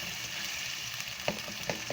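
Tomatoes and green chili paste fry together in a pan, giving a soft, steady sizzle, while a spoon stirs and taps against the pan a few times toward the end.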